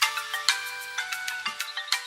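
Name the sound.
phone ringtone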